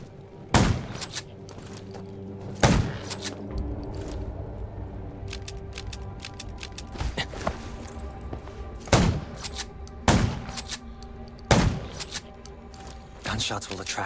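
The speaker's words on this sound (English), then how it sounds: "Gunshots will attract." Loud gunshots in the zombie survival game Undawn ring out one at a time at irregular intervals over a steady background of music and low rumble.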